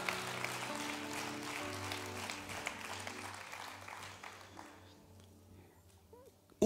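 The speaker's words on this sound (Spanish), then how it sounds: "denle un aplauso al Señor bien fuerte" A church congregation applauds loudly and steadily over sustained keyboard chords, and the clapping fades toward the end.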